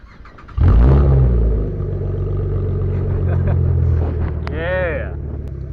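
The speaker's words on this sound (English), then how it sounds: "I love the sound of this car. I'm gonna go ahead and start it up for you." Chevrolet Camaro V6 with a short length of stock pipe cranks and catches with a loud low burst, then settles into a steady, throaty idle close by; a brief rising whistle-like sound cuts in near the end.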